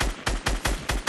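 Gunshots strike a player in a squad shooter game, loud close cracks repeating at a steady pace, about five in quick succession, with no talk.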